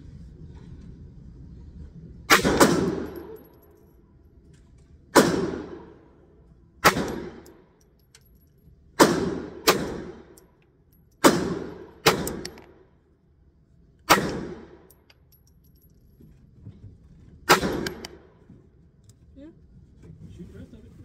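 Sharp, loud reports from a CZ 50 pistol being test-fired at a shooting range, about eight shots spaced irregularly over twenty seconds, each with a brief ringing tail over low background rumble.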